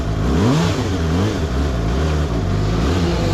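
A new KOVE 450R four-cylinder motorcycle engine runs smoothly in a steady, close hum with small rises and dips in pitch, heard alone and without talk.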